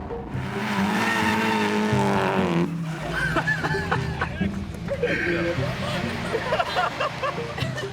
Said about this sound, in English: the car just fanging around a drift track